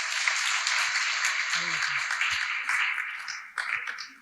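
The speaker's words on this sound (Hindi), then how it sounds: "एक बार जोरदार तालियां" Sustained applause from a devotional audience at a Sunday feast gathering, steady dense clapping filling the whole stretch with a brief louder surge near the end.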